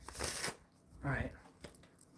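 Oracle cards shuffled by hand in two quick riffling bursts separated by a short pause, close and crisp, with a faint trailing rustle at the end.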